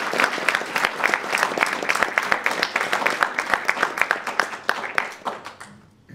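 An audience claps to welcome a speaker at a talk, a sustained round of applause from a crowd that tapers off toward the end.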